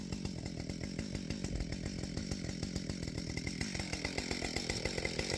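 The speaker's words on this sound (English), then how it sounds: "You want to give the chainsaw plenty of time to warm up" A chainsaw idling as it warms up in cold weather, its engine chugging in a fast, steady rhythmic putter at moderate distance without any cutting.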